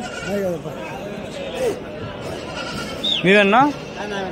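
Several goats bleat close by at the weekly Tuesday goat market in Kadiri, wavering cries rising and falling, the loudest near the end, over a murmur of people talking.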